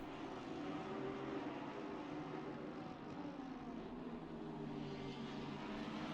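Several race car engines roar loudly and without a break in Assetto Corsa Competizione at the Hungaroring, a dense, droning wall of engine noise packed close together, with no voices.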